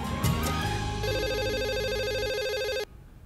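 A telephone rings with a steady warbling electronic tone that cuts off abruptly after about three seconds, loud and near, with a brief clatter at the start in a domestic drama scene.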